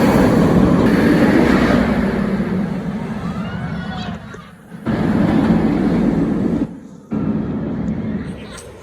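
A Jersey Devil roller coaster train at Six Flags Great Adventure gives off a loud, continuous rumbling roar that swells and fades, with two short dips. Wind noise and possible background voices blend in.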